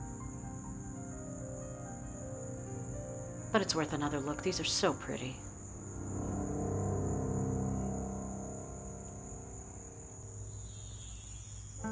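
A cricket chirps steadily in a garden among hydrangeas, a thin high continuous trill in the background while someone speaks softly over it.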